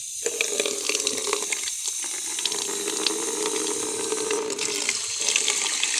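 Tap water from a municipal supply runs steadily into a container nearby, a continuous bright rushing stream lasting throughout without talk.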